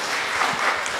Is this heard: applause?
yes